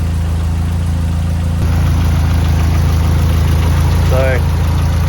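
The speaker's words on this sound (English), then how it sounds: "Runs, it idles." A car engine idles loudly and steadily just after starting, a close, even low rumble with a brief squeak of higher sound near the end.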